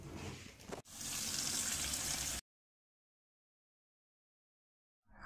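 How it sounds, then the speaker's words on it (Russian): Water gushes from a tap into a container holding fruit and baking soda for soaking, a loud steady stream running for about two seconds after a brief knock, then silence before the flow resumes. "Прям насыпаю соды, не знаю сколько, и наливаю воды туда."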